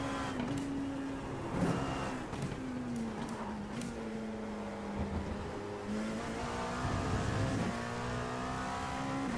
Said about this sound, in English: This is the LMP2, the Dallara P217.